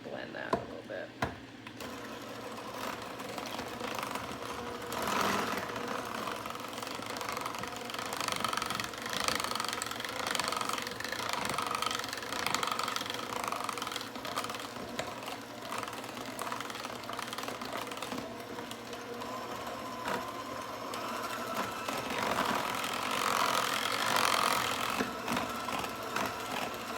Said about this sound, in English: Now I'm going to spin this up. Blend that a little bit.